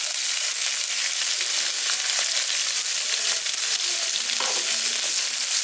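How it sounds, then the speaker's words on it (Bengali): Chopped onion with cumin frying in oil for green peas pulao, a loud, steady, dense sizzle filling the whole clip, with faint stirring scrapes. "এবার এই কুচনো পেঁয়াজটা দিয়ে দিচ্ছি।"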